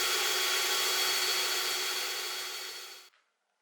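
A drill bores through a hard wooden branch while a schooner model is being made, a steady loud whirring close by for about three seconds that then cuts off abruptly.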